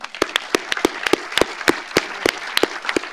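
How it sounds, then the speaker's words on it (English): A small audience at a mayor's arts awards ceremony claps for the award winners, crisp, uneven claps sounding close and fairly loud through the whole moment with no one speaking. "I'd just like to have one more round of applause for all of the award winners"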